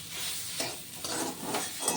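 A spoon stirs fried spice powder into a jackfruit-seed stuffing in a pan, making a few scraping, rubbing strokes over a soft sizzle, close and moderately loud.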